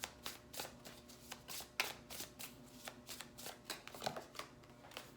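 Tarot deck shuffled by hand in repeated quick riffling bursts, a steady run of crisp papery flutters close to the mic with no talking.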